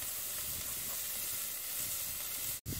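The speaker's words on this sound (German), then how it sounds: "Oder nach der Rehschulter kommen dann gleich die Zwiebeln rein. Die brutzeln mal kurz an." Onions sizzling hard in a hot pan right after a venison shoulder has been seared, a dense continuous crackling hiss that stays loud and steady throughout with no voices.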